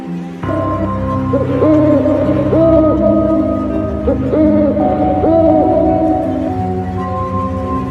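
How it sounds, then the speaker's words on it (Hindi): Owl hooting in a horror animation, a series of loud, close, wavering hoots repeating in a steady rhythm over a low sustained drone, with no voices. "सरसराहट और उल्लू की आवाज"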